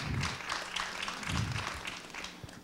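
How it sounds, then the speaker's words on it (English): Audience applause at a DOC NYC 2010 screening Q&A, a quiet, steady patter of clapping that comes in soft waves throughout, heard from a distance with no talking over it. "I'm not sure that applause is appropriate."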